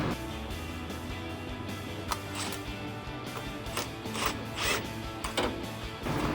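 An 18 mm ratchet clicks while tightening a tie rod nut on a 2009-2020 Ford F-150 during an upper A-arm install, quiet metallic ratcheting in short bursts with no talk.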